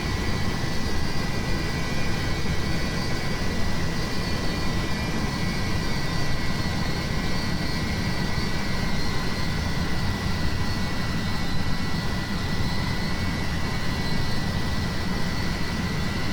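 The jet engines of an Avro Vulcan bomber in flight give a loud, continuous broadband roar with a steady tone. The level holds even for the whole stretch and no voices are heard.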